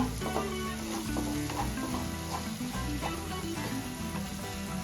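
Turmeric stirred into hot oil with melted tomatoes while cooking a dry Bombay duck (bombil) curry, giving a steady, close sizzle with soft stirring scrapes and a low murmur underneath throughout.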